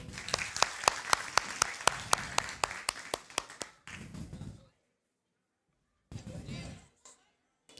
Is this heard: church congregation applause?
yes